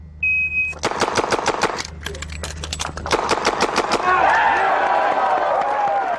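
Mossberg JM Pro shotgun fired rapidly at a shooting match: a fast string of loud, sharp blasts, a brief gap for the reload, then another quick burst, with crowd noise and reverberation swelling afterward.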